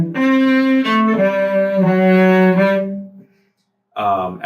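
A cello plays bars 32 to 33 of Bréval's Sonata in C, a short bowed phrase of several warm, resonant notes stepping downward, close and alone, followed by a brief pause before another bowed note begins.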